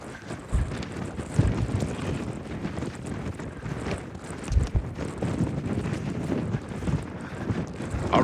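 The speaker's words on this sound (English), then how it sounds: "the wind's died off to a howling gale" Strong wind at gale force roars and buffets the microphone continuously, with rumbling gusts surging throughout, on the Heysen Trail.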